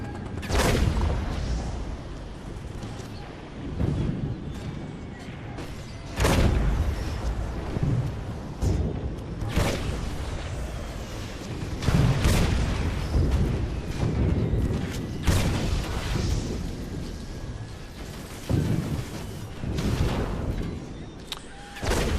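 Repeated heavy booms and blasts from artillery and explosions in the video game Toy Soldiers, firing in irregular bursts at armored vehicles over a constant rumbling battle din.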